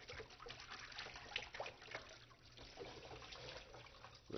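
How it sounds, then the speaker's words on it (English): A turkey tail being rinsed and swished in cold water in a sink, soft faint splashing and trickling with small drips, close and gentle under quiet room tone. "Then I'm going to rinse it in cold water."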